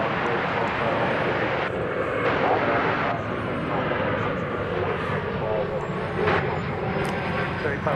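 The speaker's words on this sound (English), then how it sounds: "Looks like that flight to Los Cabos is getting ready to take off here" A jet airliner bound for Los Cabos prepares for takeoff at DFW Airport, giving a steady, broad engine roar that stays constant throughout, with faint voices underneath.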